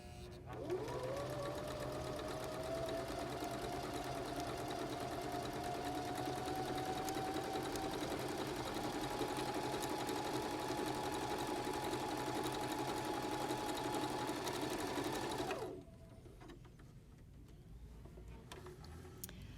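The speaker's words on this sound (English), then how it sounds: "all I do is ride this stitch just along the edge of my fabric" A Baby Lock Zeal sewing machine runs a stretch stitch along a fabric edge, a loud continuous rapid whirring hum close by that stops abruptly near the end, leaving quiet room noise.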